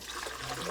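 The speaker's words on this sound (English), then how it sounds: "Let's just pour some water in." Water pours into the cleaning tub of a Graco GXFF airless paint sprayer, making a steady, close splashing rush that lasts under a second.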